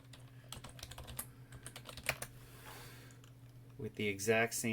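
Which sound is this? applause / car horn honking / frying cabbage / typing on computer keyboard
typing on computer keyboard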